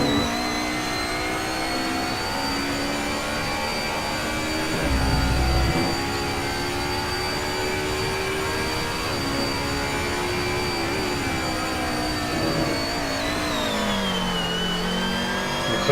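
On-board engine of an Alfa Romeo racing car at Imola in Assetto Corsa, a loud sustained high-pitched drone that rises and dips with gear changes and throttle over about sixteen seconds, with no talk.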